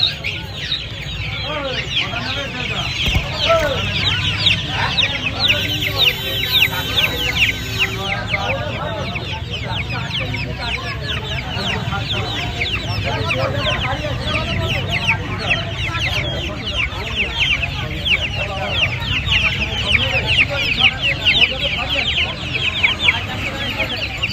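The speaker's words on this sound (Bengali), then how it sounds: "এটা সোনালী দেশি মুরগি আছে দেখুন" Sonali desi chickens cluck and squawk continuously at a busy poultry market, many birds close by with overlapping calls over steady crowd noise and occasional talk.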